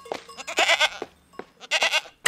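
A goat bleats several times in quick succession, loud and close, with wavering cries separated by short pauses.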